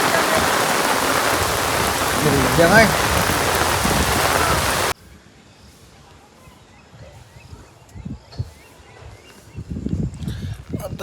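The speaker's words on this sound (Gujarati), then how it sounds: "હજી છે ને વરસાદ ચાલુ છે" Heavy monsoon rain pours steadily over farm fields, a dense loud hiss for several seconds before cutting to a much quieter stretch with scattered drips and a few faint voices.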